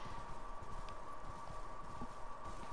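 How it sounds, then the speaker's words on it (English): A summoned horse in Elden Ring, its hooves sounding a steady, quiet clip-clop over a low, busy game soundscape with a faint sustained tone. "Summon my horse."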